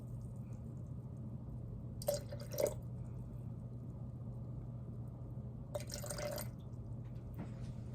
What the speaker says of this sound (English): now I'm going to get 200 grams of water in here